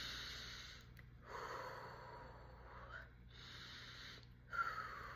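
An adult breathes slowly and deliberately to calm a child, with long audible breaths in and out in a steady rhythm, soft and close against a quiet background hum.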